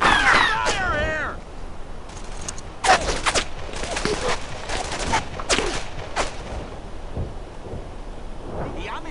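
Gunfire in a World War II shooter game, Brothers in Arms: Earned in Blood: loud, close bursts of shots and blasts crackle through the whole stretch, with a brief shout at the very start.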